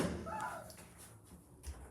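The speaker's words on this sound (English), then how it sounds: "Please mind the doors. Doors closing." Lift doors at Castlepoint Shopping Centre in Bournemouth slide shut and close with a soft thud, set against a low indoor hum and faint murmuring voices.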